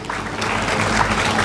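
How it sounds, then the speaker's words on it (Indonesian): Graduation ceremony audience at a school celebration clapping together, a short, dense burst of applause that holds steady and fairly loud. "tepuk tangan untuk Pak Sumatang"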